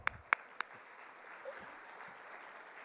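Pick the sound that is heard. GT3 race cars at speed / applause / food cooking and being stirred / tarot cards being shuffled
applause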